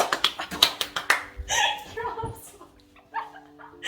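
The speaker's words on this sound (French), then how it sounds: "J'ai besoin d'applaudissements, s'il vous plaît." A few people clap in a short quick burst of about a dozen claps, followed by chuckling and scattered talk nearby.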